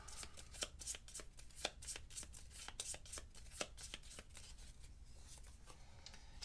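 Cards are shuffled in a tabletop game, quiet rapid riffles and taps repeating in an uneven rhythm, faint and close with no talking over it.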